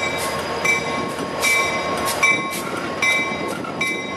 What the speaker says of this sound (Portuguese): Olha o barulho das turbinas, pessoal, que sensacional.